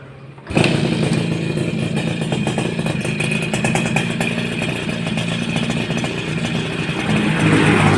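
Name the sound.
Suzuki RC100 motorcycle engine starting and running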